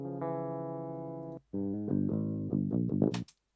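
A pre-recorded electric guitar track played straight and clean, with sustained chords that ring out, stop briefly, then return as a run of shorter strummed and picked notes ending abruptly.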